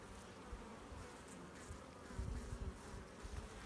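Honeybees buzz on a hive frame during an inspection, a faint, dense hum close by with slight swells in intensity.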